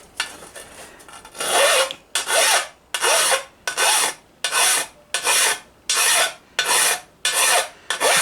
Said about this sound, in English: what I've got to do is I've got to file this back